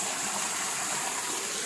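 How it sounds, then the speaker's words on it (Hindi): Warm spring water gushes steadily out of the ground at an outdoor hot spring, a continuous broad rushing wash heard close and alone with no voices. "यहाँ से पानी आ रहा है, यहाँ से भी आ रहा है,"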